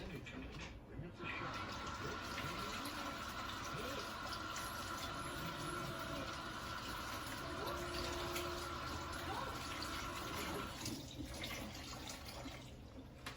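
Kitchen tap running as fresh eggs from the basket are rinsed; a steady close hiss of flowing water fills the whole stretch, with a brief dip near the start and near the end.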